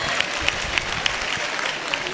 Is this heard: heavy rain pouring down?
no